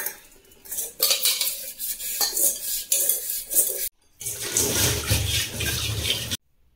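Steel utensils are scrubbed and then rinsed under pouring water, with scraping, clinking metal strokes giving way to a steady splash of running water, close up and without talk.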